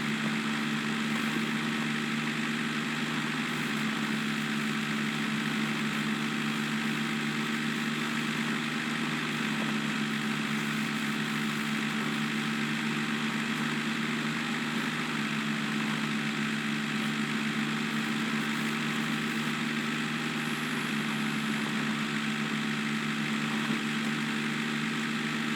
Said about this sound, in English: I just shifted the earthroamer into high gear